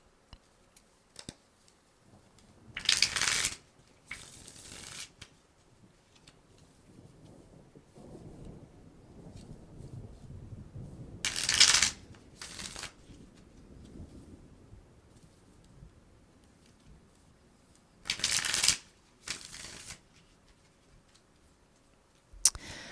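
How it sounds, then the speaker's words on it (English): Cards are riffle-shuffled in quick paired bursts, three rounds of crisp fluttering separated by quiet stretches with faint handling noises. "So I'm going to do some shuffles here."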